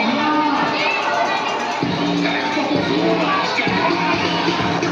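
A crowd of children at a store event shouts and cheers loudly and continuously, a dense wall of young voices with a few brief dips in the chorus.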